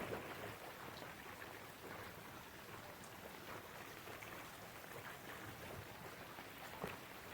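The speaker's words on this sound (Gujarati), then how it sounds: "તમે જુઓ વરસાદ હજી ચાલુ છે સતત." Heavy, continuous overnight rain during a cyclone in a village makes a faint, even wash of noise that runs unbroken throughout, with no talking.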